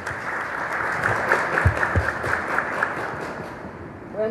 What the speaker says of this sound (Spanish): recibimos con un fuerte aplauso a la abogada Claudina Cantarero para iniciar esta exposición